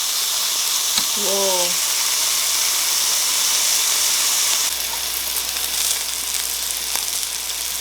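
Pork belly sizzling on a Korean BBQ grill at home, a loud continuous close hiss and crackle throughout, with a short exclaimed voice near the start.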